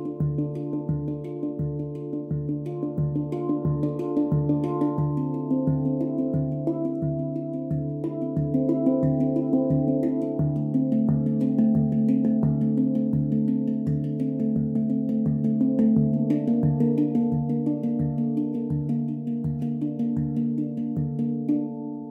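A handpan plays the Trance Groove pattern, a steady pulsing run of ringing metallic notes repeating evenly over a sustained chord, close and clear with no voices.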